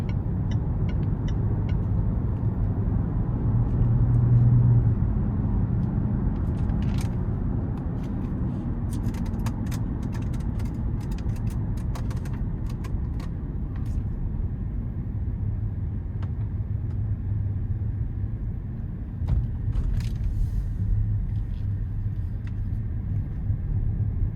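2022 Range Rover Westminster with an inline-six engine accelerating onto an interstate, heard from inside the cabin as a steady low engine and road rumble with faint ticks and clicks, with no talk.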